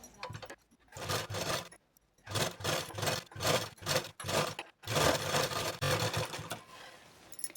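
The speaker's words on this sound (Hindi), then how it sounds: "हाफ इंच सिलाई मार्जिन देते हुए हमें सिलाई लगा लेनी है पूरे गले पर" A sewing machine stitches around the neckline of a katori blouse in quick rhythmic bursts, several runs of rapid needle clatter separated by short pauses, close by and alone.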